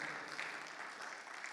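Congregation clapping during a Spanish-language church Bible study service, a steady dense wash of many hands applauding together, continuous and fairly soft throughout with no talk over it.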